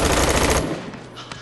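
A rapid burst of gunfire rattles loud and dense for about half a second, then cuts off into a quieter tail with faint later clicks.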